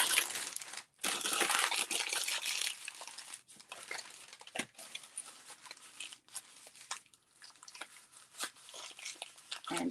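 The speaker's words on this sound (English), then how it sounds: "I have some packaging paper here that I'm going to rip in little pieces." Packaging paper torn by hand into small pieces for a craft, giving close, bursty ripping and crinkling noises broken by short gaps, loud and alone without speech.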